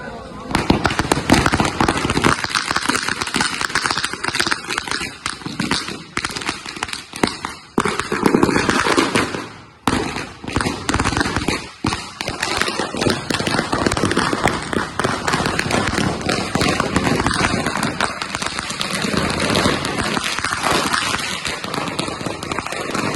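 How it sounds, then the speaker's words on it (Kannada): Firecrackers burst in long rapid chains at a fans' first-day, first-show celebration of the movie Devil in Kanakapura, loud crackling volleys with a few brief pauses, while people's voices carry faintly underneath. "ಪಟಾಕಿ ಹೊಡೆದು"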